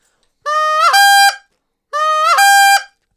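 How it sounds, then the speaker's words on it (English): Two goose-hunting call honks, each sweeping from a low note up into a sharp high break, loud and close, separated by a brief pause with no talk. "So like a honk or a cluck is a low note to a high note."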